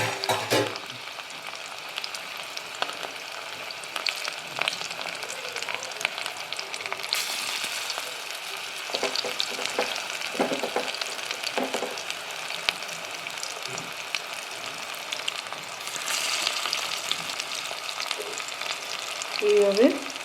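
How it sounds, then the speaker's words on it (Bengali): Onion fritters made with gram flour, rice flour and biscuit crumbs fry in hot oil, a steady soft sizzle with crackling bursts and occasional stirring clatter, fairly close and moderately quiet, with no talk over it. "ভেজে নিয়ে দেখি কিরকম দেখতে হয়।"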